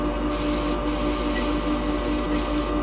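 Continuous broadband hiss of an aerosol spray can held steadily on a woodturning, a close, loud, unbroken spray lasting the whole moment with no talking.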